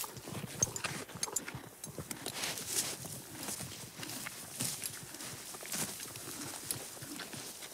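Horse hooves clip-clopping in a video game set in a desert, an uneven series of close, moderately loud steps over faint background noise.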